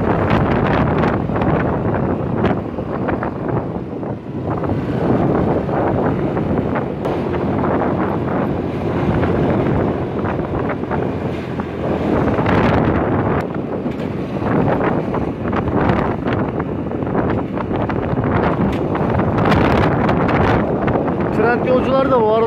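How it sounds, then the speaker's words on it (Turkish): Strong wind buffets the microphone in loud, uneven gusts, with a voice speaking underneath, while riding a Hero Duet scooter. "Çok rüzgarlı olduğu için sesim gelmeyebilir arkadaşlar."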